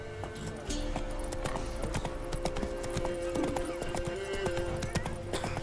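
Steady clip-clop of horse hooves, a quick even rhythm close by, with occasional whinnies and background game sounds.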